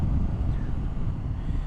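Heavy wind buffets a helmet-mounted microphone on a motorcycle riding the motorway at speed, a loud, constant low roar and rumble with no break.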